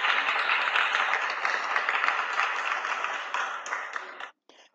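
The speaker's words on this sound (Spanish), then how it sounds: "And the final clap for you." Young students in a first-grade English class clap together, a brisk, bright burst of steady clapping lasting about four seconds before stopping abruptly.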